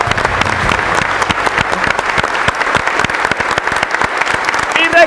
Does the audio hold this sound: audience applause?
yes